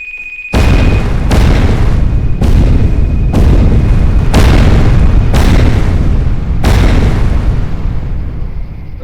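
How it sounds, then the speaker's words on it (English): Repeated C4 detonations in The Secret World: six or seven loud, booming blasts follow one another roughly every second, each with a deep rumble that rolls straight into the next, without speech. "it's that new infinitely exploding C4. You just keep detonating it again and again."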